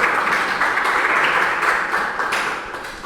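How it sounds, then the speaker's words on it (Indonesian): Classroom applause for a student group, a steady wash of many hands clapping at close range that fades slightly toward the end, with no speech over it. "tepuk tangan untuk kelompok satu"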